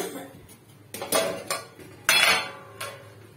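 A metal lid set onto a pot of mung dal heating on the stove, several sharp clanks and clinks in quick succession, close and fairly loud, with a brief scrape between the hits.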